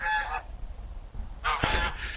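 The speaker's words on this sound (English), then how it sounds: "geese up in front of us here. Noisy buggers." A couple of geese honking close by at a small water park, two loud nasal honking calls separated by a brief pause, heard alone over low outdoor background.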